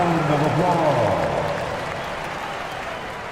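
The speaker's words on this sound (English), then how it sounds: "Give your Lakers Big Band team a big round of applause." An arena crowd in the NBA 2K basketball game applauds the Lakers Big Band team in a steady wash of clapping that fades slightly, with a commentator's voice over it.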